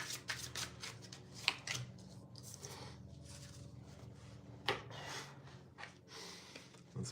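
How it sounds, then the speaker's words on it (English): A deck of tarot cards being shuffled and pulled, giving soft, repeated riffling and flicking bursts up close with brief pauses and light breathing between them, and no talking. "Let's pull some tarot cards."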